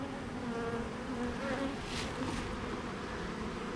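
Honeybees swarm around an open hive, giving off a dense, steady buzzing that stays close and continuous throughout, with no voices.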